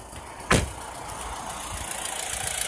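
A 2005 Audi A4 Avant 2.0T quattro engine runs at a steady idle, a low continuous rumble with a brief louder thump near the start, no voices.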